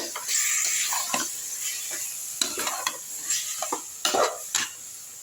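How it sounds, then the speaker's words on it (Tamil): Ground shallot paste sautés and sizzles in a pan for a coconut-water chicken gravy, with steady frying hiss and repeated scraping stirs of a spoon across the pan bottom, close and alone. "அதை அரைச்சதை வந்து எடுத்து ஊற்றிடலாம் நல்லா வதக்கி விட்ருங்க அப்படியே"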